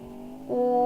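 An engine drones in the racing video game Next Car Game, a steady tonal hum that rises in pitch and loudness midway as the car accelerates, with no talk.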